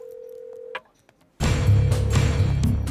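A steady telephone dial tone hums for under a second as a call is placed, then cuts to a brief silence before a loud burst of busy, dense sound takes over.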